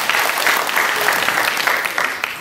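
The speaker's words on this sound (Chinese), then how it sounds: "我们掌声欢迎蔡署长" An audience at a Keelung forum on fishing-port transformation and marine leisure claps steadily to welcome a speaker, a dense, continuous applause with no break.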